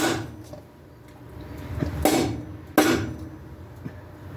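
A hammer striking a small Craftsman cold chisel, two sharp metallic blows about a second apart over a dull background of faint knocks and shuffling.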